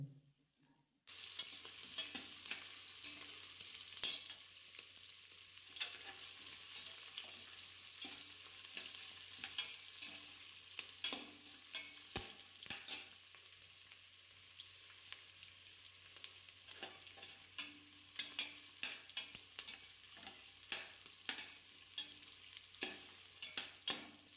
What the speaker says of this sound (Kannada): ನೀರುಳ್ಳಿ ಹಾಕು. ಸ್ವಲ್ಪ ಫ್ರೈ ಮಾಡಿ.